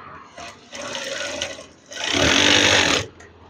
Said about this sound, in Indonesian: ini lipat dan jahit saja secara perlahan.